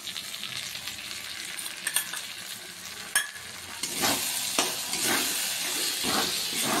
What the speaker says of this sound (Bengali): এইটা 1 মিনিট কষিয়ে নেব, যেটা টমেটোটা যেন গলে যায়।